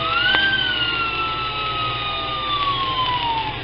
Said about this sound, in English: the little fire engine blew its little moaning siren